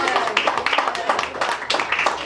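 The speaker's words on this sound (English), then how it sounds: "Can we give him a round of applause one more time, please?" An audience applauds a performer at a live talk show event, dense steady clapping throughout, close and fairly loud.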